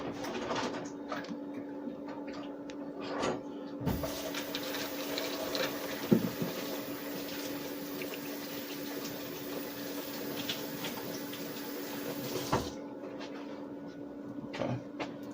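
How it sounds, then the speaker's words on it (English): Hands rinsed under a running kitchen tap while cooking, a steady faint hiss of water that starts and stops cleanly, with a low hum behind it. "I'm gonna rinse my hands real quick."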